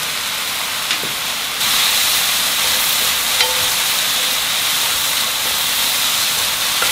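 Beech mushrooms with chives, green onion and a little sesame oil stir-fry in a pan, producing a loud, steady steaming hiss that thickens partway through, with a couple of faint clicks and no speech.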